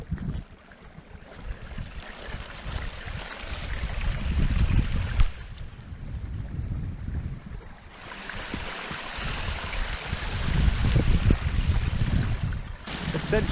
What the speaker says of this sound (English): a waterfall that's kind of semi-frozen. You can see there that the water is flowing just beneath the ice